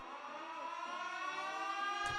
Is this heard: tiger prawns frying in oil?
no